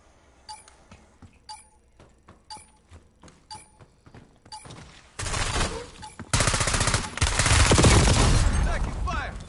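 Call of Duty Warzone gunfire starts as sparse single shots with metallic clicks, then swells into loud, sustained automatic bursts of rapid fire.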